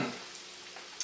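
Ground sirloin sizzles quietly in a hot pan, a soft continuous frying crackle with a small tap near the end.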